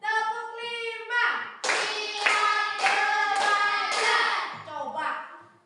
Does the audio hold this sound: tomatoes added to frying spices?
no